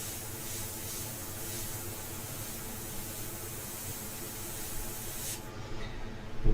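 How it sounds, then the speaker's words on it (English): A pink India ink airbrush sprays a steady, close broadband hiss for about five seconds, then cuts off abruptly, leaving a quieter tail. "I'm going in with the pink airbrush"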